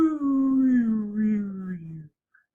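A voice imitates a receding siren with a sustained, wavering tone that slides steadily lower in pitch over two seconds, then stops abruptly.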